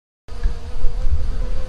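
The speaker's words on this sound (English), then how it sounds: "Reach down in here too much and I'm gonna probably get stung, because there's bees buried up in it." Honey bees buzz close up around cut wax cappings set out for them to clean, a dense steady droning swarm that starts abruptly after a brief silence.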